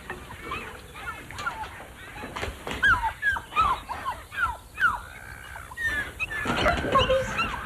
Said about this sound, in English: Puppies, come here.